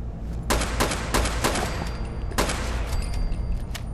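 A homemade AK rifle firing in Fallout 4, with repeated sharp shots in quick, irregular bursts over a dense, rumbling battle backdrop, loud and close throughout.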